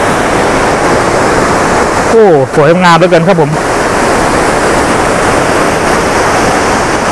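Water flows and tumbles steadily in a waterfall outdoors, a loud, continuous rushing roar that runs throughout, with someone briefly speaking over it partway through.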